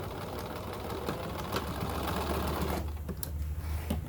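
A sewing machine runs steadily as it stitches down a fold on a fabric face mask, a close, continuous mechanical whir with a faint rhythmic needle clatter and no talking.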